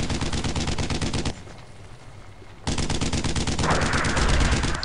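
Rapid automatic gunfire in the WWII shooter Brothers In Arms: Road To Hill 30, loud dense bursts that stop briefly and then resume, with no talking.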